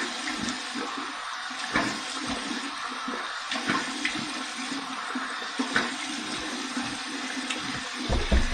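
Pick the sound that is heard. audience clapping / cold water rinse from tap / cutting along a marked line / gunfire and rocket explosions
cold water rinse from tap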